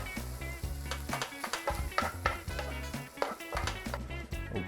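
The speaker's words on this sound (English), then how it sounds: "you just mix it all together." Mayonnaise and Dijon mustard are mixed in a cooling pan for a ham sandwich, with a continuous close sizzle under repeated wet stirring and scraping, and no talking.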